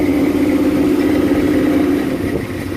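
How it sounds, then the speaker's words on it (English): A 1978 Dodge Lil Red Express pickup truck engine runs loud and close, a steady throaty hum with a constant low drone that eases slightly near the end. "This Dodge Lil Red Express pickup truck."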